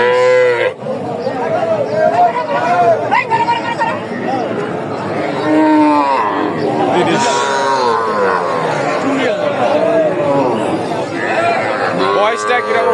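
Native bulls and calves at a cattle market, with occasional lowing heard beneath near, continuous conversation between men and a murmuring crowd in the background.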